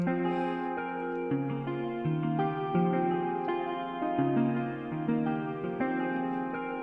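A detuned, double-tracked guitar melody of sustained notes with a thickened, slightly chorused tone, moving through a stepwise line without any voices.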